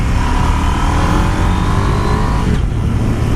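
A KTM 890 Duke R motorcycle accelerating hard in first gear, its loud engine roar climbing steadily before a brief dip as the quick shifter snaps up a gear, all behind heavy wind rush.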